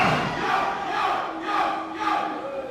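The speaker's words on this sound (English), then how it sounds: "you can hear the crowd letting him have it. They do not like that at all" A wrestling arena crowd jeers a heel wrestler at a women's match, a loud continuous roar of boos and shouts rising in waves, with no clear voices over it.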